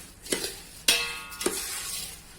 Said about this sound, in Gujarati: હવે આપણે બધો મસાલો મિક્સ કરી દેશું